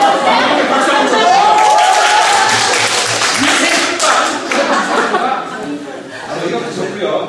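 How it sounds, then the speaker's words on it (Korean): Lecture audience clapping: a full burst of many hands close by, mixed with chuckles and murmuring voices, tapering slightly toward the end. "박수 한번 쳐주세요."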